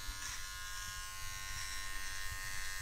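An electric trimmer shaves a man's neck dry during at-home beard grooming, its close, steady buzz running alone throughout.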